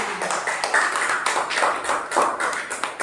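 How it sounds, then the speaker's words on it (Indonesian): A classroom applauds a student group, many hands clapping in a busy, continuous patter that stays fairly even and close throughout. "Oke, tepuk tangan untuk kelompok"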